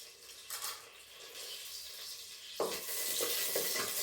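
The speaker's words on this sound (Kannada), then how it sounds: "ಮೂರು ಸ್ಪೂನು ತುಪ್ಪ ಹಾಕಿದ್ದೀನಿ ಸೊ ಗರಂ ಮಸಾಲೆ ಸಾಮಾನು ಹಾಕೋತೀನಿ" Whole garam masala spices frying in ghee for a masala egg biryani, a steady sizzle that swells louder partway through with occasional stirring scrapes, close and continuous, no talk.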